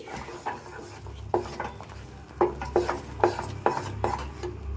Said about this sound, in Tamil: சேர்த்து கிண்டிக்கலாம்